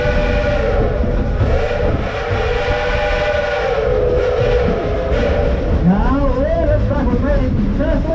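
Dollywood Express steam locomotive Engine 192, an eight-drive-wheel engine once on the White Pass Yukon Railroad, rumbles steadily and loudly throughout, with sustained whistle-like tones layered over the churning train noise.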